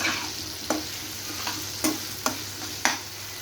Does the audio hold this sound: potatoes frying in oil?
yes